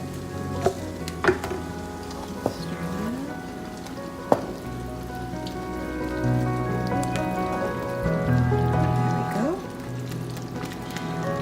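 Alfredo sauce made with a Parmesan and Romano cheese blend simmers in a pan, soft bubbling and popping with a few sharp clicks, while a person talks over it.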